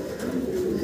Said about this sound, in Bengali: এখানে মোট আমরা 3 জোড়া কবুতর আপনাদেরকে দেখাচ্ছি।